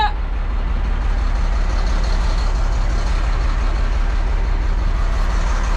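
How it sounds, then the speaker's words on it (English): A work truck rolls slowly beside a running road, its engine a steady low drone with faint air-brake hiss at the start, heard close without talk. "I'm gonna start moving the truck over to where he's at with the strap."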